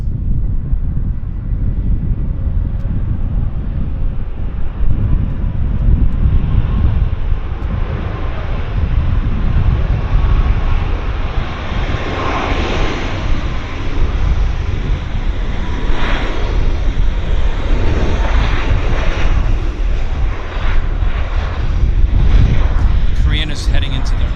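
A Lufthansa Boeing 747-400 airliner lands at Vancouver Airport with a steady, loud, broadband engine roar mixed with wind noise on the microphone, holding level throughout.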